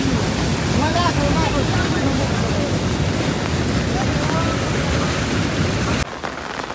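Floodwater from a river and dam pours into a farm field, making a loud, continuous rushing roar buffeted by wind that cuts off abruptly near the end.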